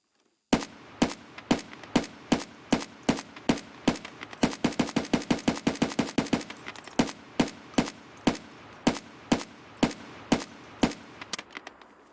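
A rifle chambered for SKS-type ammunition fires in Escape From Tarkov, loud sharp shots cracking out in steady semi-auto succession, briefly speeding into a rapid burst midway before slowing again.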